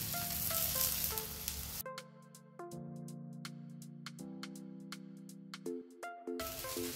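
A flourless, breadless homemade sandwich toasts in a hot pan with a soft sizzle, heard alone at the start and end while melodic background music plays through the middle.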